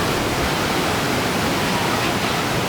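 A natural waterfall in Wayanad roars as steady, loud broadband rushing that stays unbroken throughout, with no voices heard.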